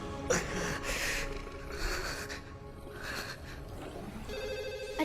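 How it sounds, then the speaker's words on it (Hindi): A telephone rings in repeated bursts, fairly faint, with breathing and soft background noise between the rings. "अरे फोन तो उठा।"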